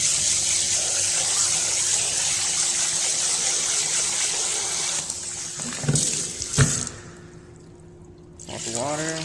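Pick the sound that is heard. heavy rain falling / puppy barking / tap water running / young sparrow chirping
tap water running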